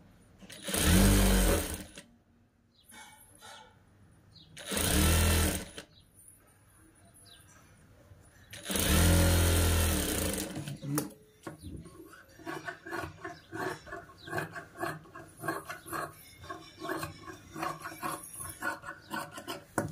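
Three loud, close bursts of a sewing machine stitching a child's frock cut from an old saree, each a steady whir, followed by quieter scattered handling and fabric rustling.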